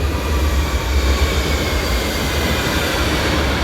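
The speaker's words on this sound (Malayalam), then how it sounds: "ഇതാണ് നമ്മുടെ ഊബാൻ" A Berlin U-Bahn subway train rumbles loudly and steadily close by as it arrives at the station, a deep continuous roar with a faint metallic whine above it.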